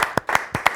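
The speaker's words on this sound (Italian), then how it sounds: "facciamole tutti un applauso" A few hands clap in an Italian television studio audience, five sharp separate claps in under a second, close and fairly loud.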